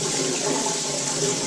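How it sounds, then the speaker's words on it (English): Dirty water left after deep cleaning dreadlocks pours out of a container and drains in a steady, continuous rushing splash, close and loud with no talking. "Bring that where you can see the final dirty water dump."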